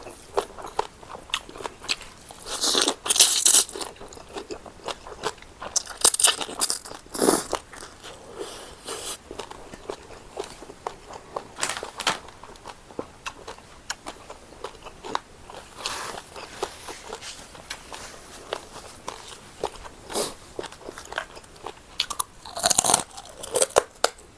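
Close-up crunching and chewing of crispy pork rinds eaten with papaya salad, rice noodles and cooked shrimp, with irregular loud crackling bites over softer, continuous mouth sounds.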